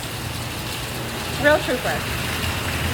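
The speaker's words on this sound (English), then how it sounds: "I love the rain." A Caribbean rainstorm pours steadily, a broad, close patter of rain on surfaces. Someone speaks a few words over it.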